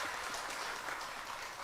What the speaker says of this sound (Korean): 박수 한번 드리도록 하겠습니다